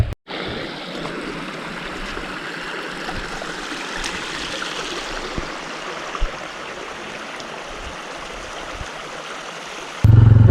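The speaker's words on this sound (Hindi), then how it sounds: "यहाँ से ऊपर चश्मा बहता हुआ आ रहा है" A mountain spring stream flowing over a forest track in the Sharan Forest near Skardu, a steady close rushing and trickling of water with a few small splashes, continuous, with no voices.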